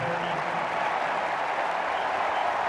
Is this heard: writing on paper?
no